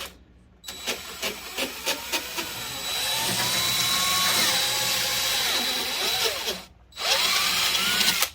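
A power drill whirs in bursts and then runs steadily at close range while parts are fitted during a sound system setup, with pitch sweeping as the speed changes and a brief pause before it starts again.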